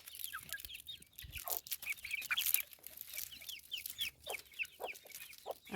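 Free-range chickens, including a young chick, cluck in an open field, with repeated short close clucks and calls in an uneven rhythm over a quiet background.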